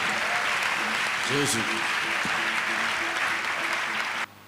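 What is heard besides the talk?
church congregation applause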